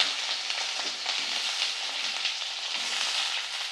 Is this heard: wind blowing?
no